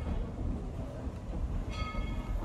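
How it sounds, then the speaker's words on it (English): Tweetsie Railroad train cars rolling backwards at the end of a ride, a steady low rumble of rolling wheels with a faint high squeal near the end, no voices. "please remain seated until the train cars have finished rolling backwards"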